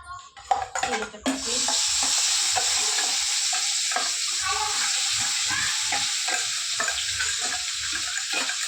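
Ground spice paste for a sprouted yellow moth bean dish fries in oil in a pan, a loud continuous sizzle after a brief clatter, with steady stirring scrapes underneath.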